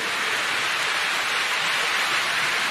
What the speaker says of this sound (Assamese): পূৰা ধাৰাসাৰ বৰষুণ দি দিছে